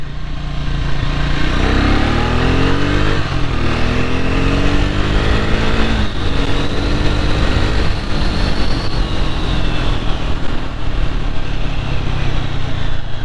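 A Triumph Speed T4 400cc motorcycle engine runs steadily while riding, a loud continuous drone with some shifting pitch and heavy wind rush throughout.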